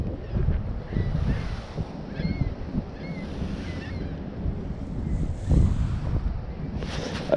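Wind blows steadily across a lake while fishing from a boat, a constant low rumble buffeting the microphone with soft splashes of water, and a few faint bird-like chirps drifting in.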